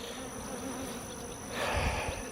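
Bees buzz at a backyard hive knocked over by fighting bulls, a steady faint hum that swells louder near the end.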